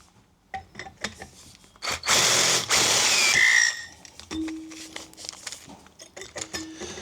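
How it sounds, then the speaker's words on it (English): A power drill whirs loudly for about a second and a half, drilling out metal U-bolt holes, amid scattered clanks and handling noises, followed by a brief high squeal. "I need to drill them out a tiny bit"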